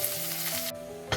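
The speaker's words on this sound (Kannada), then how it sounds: "ಸ್ವಲ್ಪ ಫ್ರೈ ಮಾಡ್ಕೊಬೇಕು." Chopped onion fries in hot oil with mustard seeds and curry leaves for a spinach sambar tempering. A loud, close sizzle drops away briefly, then flares back up at the very end.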